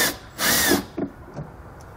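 Short close bursts of a power tool backing out T15 bolts from the lower front fascia of a 2020 Chevrolet Traverse, one longer whir followed by two brief spins.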